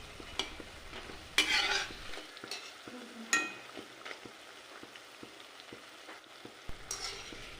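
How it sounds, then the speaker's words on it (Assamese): Onion pakoras fry in oil over a medium flame, a soft sizzle broken by sharp bursts of stirring and scraping in the pan. Quieter crackling fills the gaps and no one speaks. "মই মিডিয়াম ফ্লেমতে এইদৰে পকৰিখিনি ভাজি আছোঁ"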